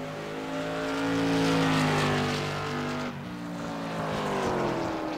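Race car engine from the iRacing sim at Southern National, a loud steady drone with shifting pitch that swells, dips briefly around the middle, then climbs again, with no voices.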